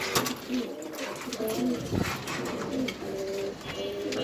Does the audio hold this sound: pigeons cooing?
yes